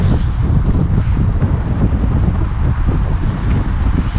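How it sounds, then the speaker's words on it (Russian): Strong wind buffeting a microphone outdoors in Baku, Azerbaijan, a loud, constant low rumble with irregular gusty thumps throughout. "Ветер, конечно, вообще жесть сегодня."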